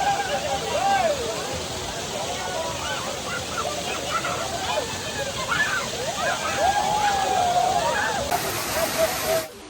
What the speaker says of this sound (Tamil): நல்லா ஃபோர்ஸாக இருக்குது தண்ணி, பட்டுன்னு அடி விழுதான்